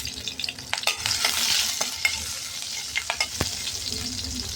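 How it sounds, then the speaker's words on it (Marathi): Barnyard millet (bhagar) with green chillies and cumin frying in ghee, a close hissing sizzle with scattered spoon taps and scrapes against the pan. "ती भगर तुपात छान परतून घेऊ"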